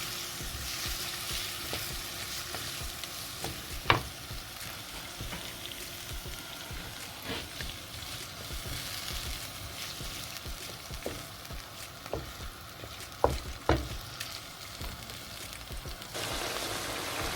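Ingredients for brown stew chicken sauté in a pot with a steady, close sizzle throughout, broken by a few sharp clicks and taps from a spoon against the pot.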